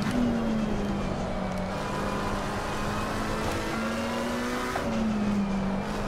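Race car engine in Assetto Corsa Competizione on PS5, a steady high whining drone that dips and climbs slightly through gear changes, loud and continuous with no talk.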